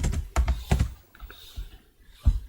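Typing on a computer keyboard in a quiet room, with a few loud key clacks in quick succession followed by softer, sparser taps.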